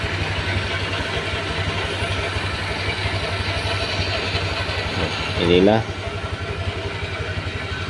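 A 2023 Honda Vario 125 scooter idles steadily with a low, even putter while someone talks over it.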